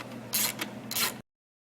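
On a VW Corrado 2.8 VR6 engine, a wrench tightens the drive-belt tensioner in a short burst of close ratchet clicks, three quick pulses that then stop dead.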